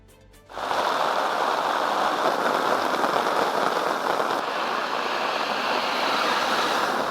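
Heavy monsoon rain, with wind, lashing down in Kerala: a dense, steady roar of downpour bursts in loud and close after a brief quieter moment, then holds without a break.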